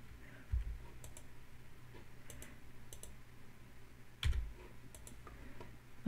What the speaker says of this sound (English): we're going to use the arrow keys to just nudge it a little bit.